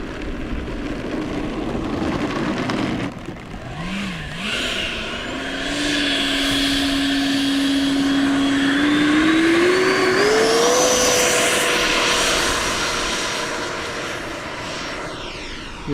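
A small RC ducted-fan jet, a 105mm 12s powered Diamond, flies close by: its turbine whine climbs in pitch and swells as it passes, then holds a high steady tone while fading slightly.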